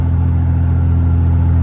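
A Ford F250 with a 5-inch exhaust tip rumbles heard from inside the cab, a deep, steady, loud low-pitched engine drone held without change for a brief moment.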